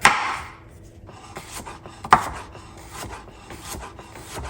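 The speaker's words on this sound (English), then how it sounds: "Next, I'm gonna cut my cucumber up." A knife slices through cucumber on a cutting board in two sharp, close chops about two seconds apart, with softer scraping and tapping between them.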